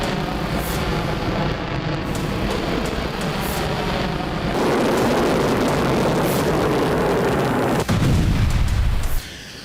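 A hypersonic missile test launch gives a sustained, loud roaring blast that swells partway through, with a sharp crack near the end before the rumble cuts off.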